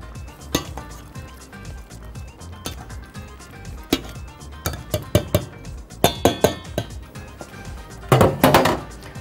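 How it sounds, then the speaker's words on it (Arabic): Masher pressing cooked fava beans in a pot, a series of irregular close clinks and dull thunks of metal against the pot, with a cluster of scraping knocks near the end. "هجيب الهرسة، عايزة اهرس الفول شوية"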